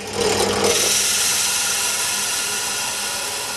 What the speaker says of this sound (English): what we need to do on here is to drill out some holes in here